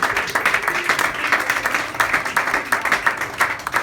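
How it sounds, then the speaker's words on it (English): Audience at a stand-up comedy set bursts into applause, dense overlapping claps rising and falling in quick waves, loud and close, with faint voices mixed in. "you can applaud it."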